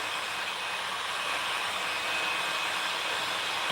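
A heat gun blows steadily while heating window tint film on the rear glass of a 2013–2016 Chevy Malibu, a loud continuous airy roar that holds unchanged throughout without a break.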